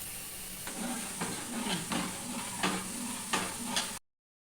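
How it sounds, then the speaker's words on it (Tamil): Hotel-style tiffin sambar comes to a boil in a pot, giving a steady steamy hiss with a few soft bubbling surges, close and alone, ending abruptly. "இப்போ நல்லா வந்து நமக்கு கொதி வந்துருச்சு."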